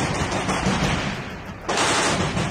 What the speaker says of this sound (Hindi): वहां एक कमरे में छिपे रूस के सैनिक ने सामने से हो रही फायरिंग का जवाब देने के लिए ताबड़तोड़ गोलियां चला दी